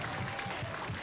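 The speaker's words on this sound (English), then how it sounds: "If you feel like giving her a standing ovation," Audience applause for a storyteller at a live storytelling event, a steady wash of clapping filling the whole short moment at moderate level with no voices over it.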